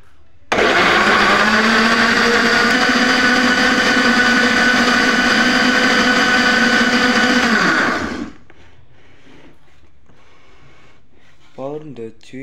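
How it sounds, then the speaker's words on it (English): A blender mixing banana juice whirs loudly and steadily for about eight seconds, then cuts off abruptly, leaving quiet room noise with a few faint clicks. "Then blender all the ingredients until mixed."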